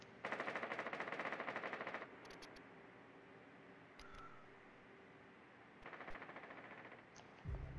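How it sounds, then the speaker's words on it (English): Video game gunfire rattling in rapid automatic bursts, a long volley at first, then scattered shots and a second burst, fairly faint and heard alone without talk. "I'm getting shot at from someone else."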